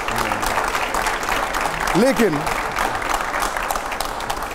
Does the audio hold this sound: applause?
yes